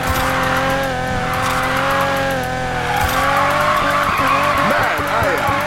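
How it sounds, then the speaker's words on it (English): Need For Speed Payback car drifting off-road, with sustained, loud engine roar and repeated tire squeals and skidding throughout. "Racing off-road. Nothing like kicking up some dirt."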